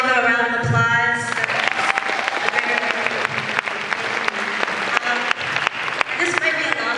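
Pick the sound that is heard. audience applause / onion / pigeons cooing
audience applause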